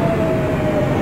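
A New York City subway train on the BMT L line runs in the OpenBVE train simulator game, giving a steady, loud rumbling roll with a faint high whine held throughout.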